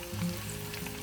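Chicken pieces for Chinese popcorn chicken sizzle in hot oil during the first fry, giving a soft, steady crackling hiss at moderate loudness with no talk.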